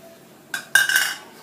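Carrots tipped into a metal pan, heard as two quick close clattering clinks of pieces and utensil against metal, followed by a short ringing rattle that fades in a quiet kitchen.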